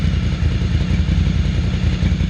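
A Ducati 800 Scrambler track bike fitted with Chinese carburetors idles nearby with a loud, steady, lumpy rumble and mechanical clatter. No voices are heard.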